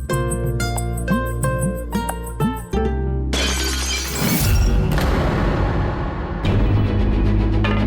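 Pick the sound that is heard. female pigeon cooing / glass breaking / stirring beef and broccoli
glass breaking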